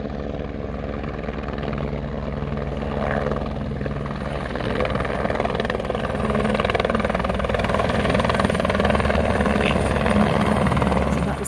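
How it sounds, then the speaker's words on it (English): Helicopter coming in to land in a mountain valley near Namche Bazaar, Nepal, its rotor and engine drone steady and loud throughout, growing slightly stronger toward the end. "So that was the helicopter just coming into land."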